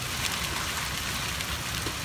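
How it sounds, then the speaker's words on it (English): Hailstorm with heavy rain and 60 mph winds at night, a dense, steady hiss of rain and hail pelting surfaces, constant and fairly loud with no talking. "60 mile an hour winds, hail, crazy storm passing through tonight"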